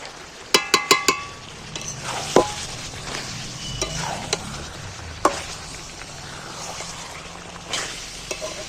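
Chicken sizzles and fries in a wok while being stirred until dry, with a quick run of metal clinks near the start and occasional scrapes.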